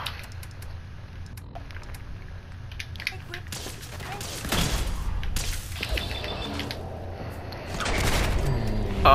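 Bursts of gunfire in Fallout 4 rise in irregular clusters, dense rapid shots and booms growing louder toward the end, over a steady game background.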